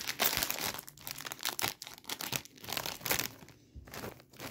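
A Lulu Puffs chili lemon snack bag is torn open by hand with loud, close crinkling and crunching plastic. The rustles come in irregular bursts with short pauses between them.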